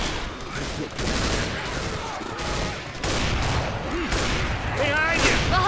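Rapid bursts of gunfire ring out in the zombie shooter video game Left 4 Dead 2, loud and close, with shots layered over game noise and other sounds.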